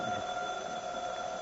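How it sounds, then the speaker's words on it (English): An old-fashioned house telephone rings indoors in a vintage radio-style comedy scene, a steady sustained electric ring holding for the full moment with no talk over it. "Gee whiz, that's our phone."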